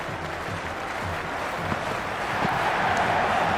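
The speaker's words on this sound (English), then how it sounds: "The crowd are loving every minute of this match." A stadium crowd in the Cricket 26 video game, at a PSL match between Multan Sultans and Hyderabad Kingsmen, gives a continuous dense roar of applause and cheering that swells slightly toward the end, with a faint voice underneath.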